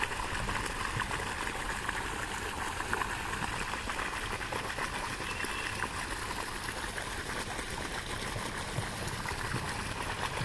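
Irrigation water pours steadily into cauliflower nursery beds covered with sacks, a constant rushing, gurgling flow heard close and alone for the whole stretch.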